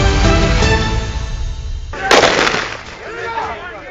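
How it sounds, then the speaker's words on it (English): Loud bursts of gunfire crackle over a dense, noisy background on a piece of land called Buruburu Farmers, with a sharp crack in the middle and a rumbling tail. "Gunshots were the order of the day on a piece of land dubbed Buruburu Farmers"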